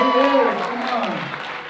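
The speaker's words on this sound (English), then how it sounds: "So everyone give him a round of applause" Audience applause at a student awards winter recital, a dense wash of clapping with some cheering voices, loud at first and easing slightly toward the end.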